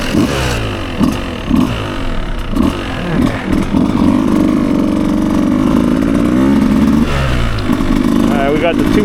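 A 2024 Beta 200 RR Race edition dirt bike revs hard in dry mode at full power, the engine note rising and falling through repeated throttle blips up close, with a voice speaking over it.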